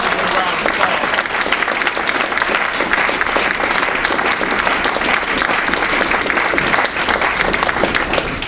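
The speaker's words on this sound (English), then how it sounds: "Please receive him with a round of applause." Loud, dense audience applause from a large crowd welcoming a speaker at a religious lecture event, sustained steadily and close throughout.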